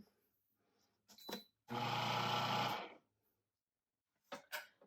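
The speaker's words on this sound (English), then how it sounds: "And then we're going to pulse it again, or puree it." A food processor pulses soup in one short whirring burst of about a second, set against near silence with a few faint, brief sounds on either side.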